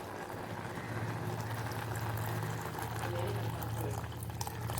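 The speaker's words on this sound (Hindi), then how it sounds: "सो अभी फिर से मैं पानी ऐड कर रही हूँ।" Water is poured into a cooking pot on a home kitchen stove, giving a steady, continuous rushing and splashing wash at moderate level with a low hum underneath throughout.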